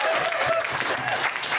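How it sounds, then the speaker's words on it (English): A small workshop audience at a crowdfunding event gives a brief round of applause. The dense clapping stays steady and close, with a few voices murmuring underneath. "please give her a nice round of applause"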